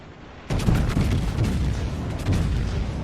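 Main battery guns of a Montana battleship firing in the World of Warships naval game, a loud sudden salvo of deep booms rolling into sustained rumbling, close and heavy.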